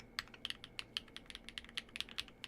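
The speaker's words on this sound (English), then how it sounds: "and feels just very satisfying to type on" Typing on a Keychron V1 Ultra mechanical keyboard with plate foam, a quick, fairly even run of crisp key clacks heard close up and alone over a faint hum.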